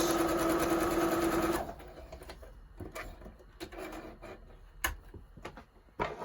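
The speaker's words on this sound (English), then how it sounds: "So just sewing along the edge." Home sewing machine stitching along a fabric edge while making pattern weights, a steady fast loud whir for about a second and a half, then it stops and faint handling clicks and taps follow.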